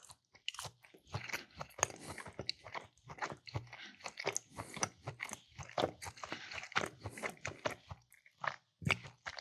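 Close, wet chewing and biting of prosciutto with Munster cheese, irregular crunchy mouth sounds repeating steadily at low volume.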